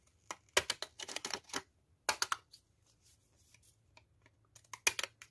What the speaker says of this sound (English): Let's cut with the scissors.